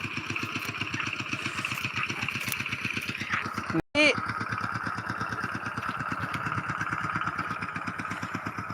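A plowing tractor's engine, at work preparing a rice paddy, chugs in a steady fast pulse close by, cuts out for an instant, then returns and revs on loudly, with a voice briefly heard over it.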